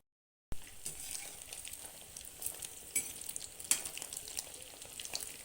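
Egg koftas fry in hot oil with a steady, close crackling sizzle that runs throughout, marked by a few sharper pops and spits.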